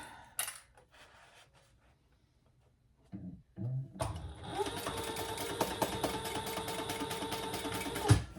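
A sewing machine stitches darts on a fabric wristlet. After a few quiet seconds with small handling knocks, the motor starts and keeps up a steady, close, whirring rattle of rapid needle strokes until the end.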